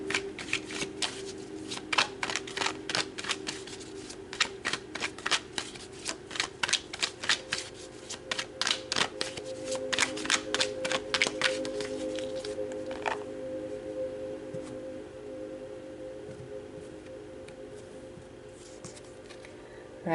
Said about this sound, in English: So let's pull some more cards, some more tarot, and go deeper.